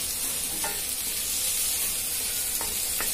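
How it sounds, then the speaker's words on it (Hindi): Onions turning golden in oil with curry leaves and a green chili sizzle in a steady, dense hiss. Two or three brief scraping stirs cut through, and no voice is heard. "थोड़ी देर इसको और भूनूंगी।"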